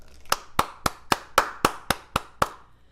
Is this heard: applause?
yes